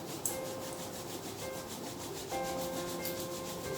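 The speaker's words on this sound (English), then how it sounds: "Rub your palms." Palms rubbed briskly together during a yoga session for digestion, a steady dry friction hiss that runs continuously and close, without talk.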